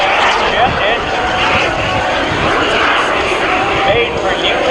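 A jet aircraft engine roars at an air show, a loud continuous broadband rush holding steady throughout, with crowd or commentary noise blended beneath.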